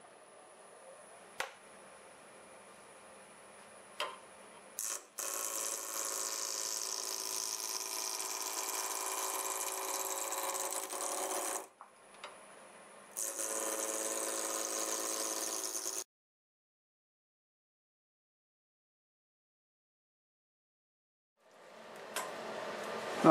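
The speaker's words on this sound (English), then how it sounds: "I'll be using my spindle roughing gouge at about 1100 RPM." Wood lathe spinning at about 1100 RPM while a spindle roughing gouge works the blank: a steady high whirring hum with long bursts of scraping cutting noise, then silence before the motor spins up again.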